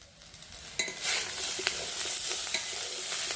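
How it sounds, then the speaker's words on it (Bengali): Banana slices fry in a pan with a steady, loud sizzle, with a few sharp clicks of stirring and scraping near the start and no voices. "বেশি ভাজলে না শক্ত হয়ে যায় কলা ভাজা"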